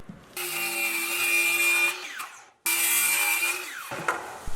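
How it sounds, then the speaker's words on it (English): A power saw cuts 2x2 solid oak leg blanks to length in two loud, close passes, each with a steady whine that winds down before the next cut starts. "I cut them to their final length."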